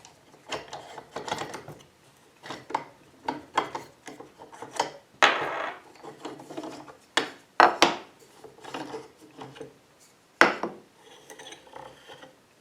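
The axle is worked out of a Wimshurst No. 11 machine by hand, with a series of close, irregular wooden knocks, rubbing and ratcheting clicks spread across the clip with short pauses between.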